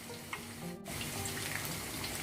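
Pieces of Thai-style fried chicken bubble in oil over medium heat, giving a continuous close sizzle with a brief dropout partway through before the frying noise resumes.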